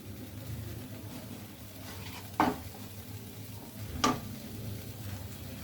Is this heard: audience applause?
no